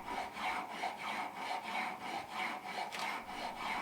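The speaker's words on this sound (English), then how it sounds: "Then the head is prepared with a plane, rasp and a template." A rasp and plane shape the wooden head of a violin bow in a bow maker's workshop, giving steady, rhythmic rubbing and scraping strokes at close range, about eight in a row at an even pace, with no voices.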